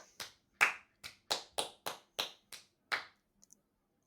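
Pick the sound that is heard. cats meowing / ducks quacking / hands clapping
hands clapping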